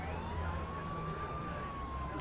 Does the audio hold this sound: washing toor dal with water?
no